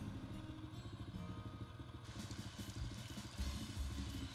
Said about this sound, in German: Warum ist das Motorrad noch so laut?